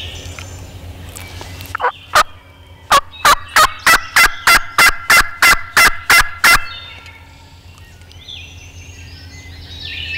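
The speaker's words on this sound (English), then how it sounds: "Bird calling back out behind me here somewhere." A wild turkey gobbles during a spring hunt in the woods, with one call, then a rapid rhythmic series of about a dozen loud, evenly spaced gobbling notes close by, followed by quiet.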